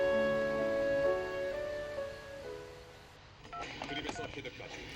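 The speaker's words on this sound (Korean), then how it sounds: "아침부터 아내가 전화를 돌리느라 바쁘다." Electronic telephone dialing tones as calls are made to arrange fuel for a small island ferry boat; steady, clear tones ring out for about two seconds, then fade into quieter, busier background noise.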